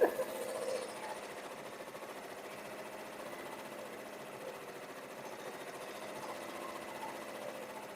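An embroidery machine stitching an awareness ribbon angel design, a steady fast mechanical whirring with an even rapid rhythm, close and moderately quiet, running alone after a brief knock at the start.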